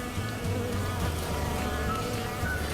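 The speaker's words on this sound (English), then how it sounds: "now we do see a few bees flying around outside the hive" Honey bees flying around a bird house they have taken over as a hive, a steady soft buzzing hum of several insects nearby, with no voices.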